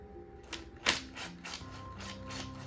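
A screw is being unscrewed from the arm of a DIY zombie ground-breaker Halloween prop, giving faint, close mechanical ticks and clicks at an uneven pace.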